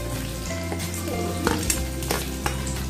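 Onion sautéing in a hot pan for red sauce pasta, giving a loud, close, constant sizzle with a few sharp stirring scrapes and clicks of the spoon against the pan.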